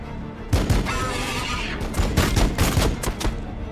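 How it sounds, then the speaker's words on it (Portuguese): Gunfire in the video game Warhammer 40k Battlesector crackles in several loud, close volleys of rapid shots over a busy battle din. "Vamos dar uns tiros aqui."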